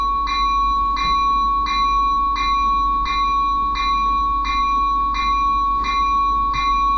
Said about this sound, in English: Oh, it's got a bell too.